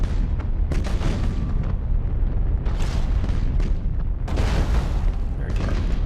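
Starship weapons fire in a Warhammer space battle in Battlefleet Gothic: Armada, loud repeated booming blasts and rumbling bursts in a dense barrage over a continuous low roar.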